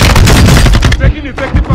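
Rapid bursts of loud, close automatic gunfire in Warzone 2.0, dense cracking shots tumbling over one another, with a brief lull before a few more bursts.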